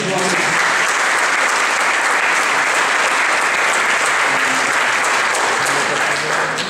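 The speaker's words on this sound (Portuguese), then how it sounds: "Aplaude eles." Loud, continuous applause fills a church congregation hall, a thick, unbroken roar of many hands clapping at once with no pauses.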